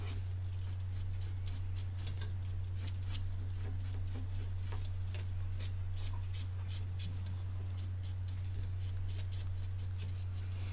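Soft scratchy strokes of a blender pen rubbing across coloured pencil on paper repeat in a steady rhythm over a constant low electrical hum, close and quiet.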